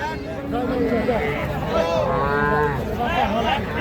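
Several young bull and heifer calves moo in overlapping calls, loud and near, with people talking in the background at a cattle market.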